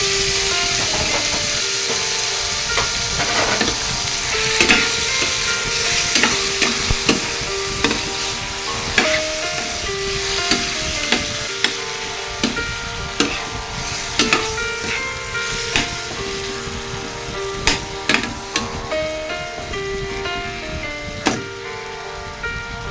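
Chicken liver sautéing with cauliflower and broccoli in a pan, a loud continuous sizzle broken by repeated sharp scrapes and knocks of a spatula stirring.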